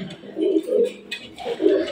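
A Black Arabian Kokka pigeon coos close by in a series of soft, low, rounded coos repeated in an uneven rhythm, with faint background noise between them.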